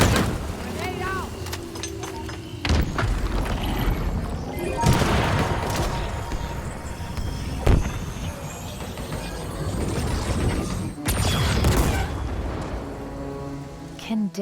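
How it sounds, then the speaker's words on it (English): Grenade blast and gunfire in the video game Halo Infinite, set in a busy battle with several loud broadband bursts and crashes over constant mechanical clatter. "Grenade out."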